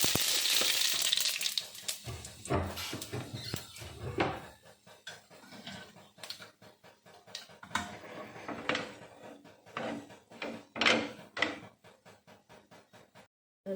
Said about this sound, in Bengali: এবার একটু রাঁধুনি ফোড়ন দিলাম